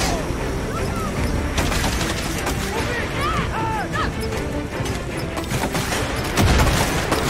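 Gunfire and explosions in the video game Far Cry 6, a dense loud barrage of shots, crashes and booms with a heavy blast near the end, under sparse voice.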